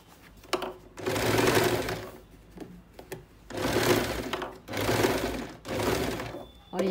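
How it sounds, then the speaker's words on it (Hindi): A sewing machine stitching a pant belt runs in several close, loud whirring bursts of rapid needle clatter, separated by short pauses and faint handling noises, with no talking. "ये देखिए अब हम इसे स्टिच करेंगे।"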